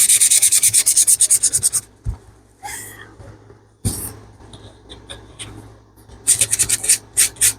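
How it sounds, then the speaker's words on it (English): Sandpaper rubs rhythmically across the back of a small handmade charm in quick, close strokes, then stops for a pause with a few knocks and handling sounds, then the strokes resume. "So we're going to grab our sandpaper and we're going to do the back."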